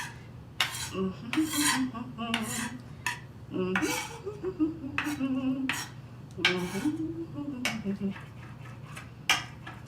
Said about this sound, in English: So we are going to keep chopping this until I'm satisfied with how it looks.